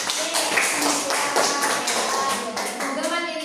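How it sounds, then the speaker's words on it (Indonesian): Students in a classroom clapping their hands together, a dense continuous patter of applause under a teacher's voice. "kita tepuk tangan dulu"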